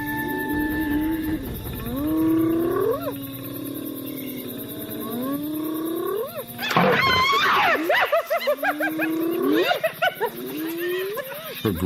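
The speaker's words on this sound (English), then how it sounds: "Her growl is stronger than she is." A weary leopard growling at a mob of hyenas, with long, loud rising snarls and roars answered by bursts of hyena whoops and cackles that grow louder and more frantic toward the end.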